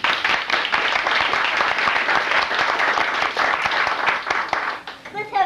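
A circus audience claps steadily at the close of the show, dense and loud continuous applause from a large crowd, tapering slightly near the end without any voices standing out.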